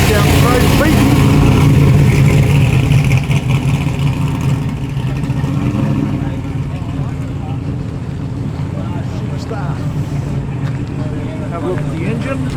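A blue Holden GTS Monaro muscle car drives past at an outdoor muscle car show in a park, its engine rumbling loudly at first and then fading as it moves away, with people talking over it.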